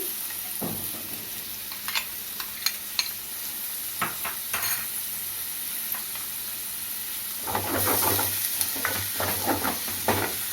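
Chopped onions fry in hot oil in a pan for a curry, with a steady hiss, scattered spoon scrapes and clacks, and a louder sizzling burst near the end, close by.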